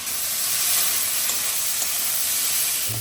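Loud, steady sizzling of onions frying in a pan, a dense hiss with faint stirring knocks.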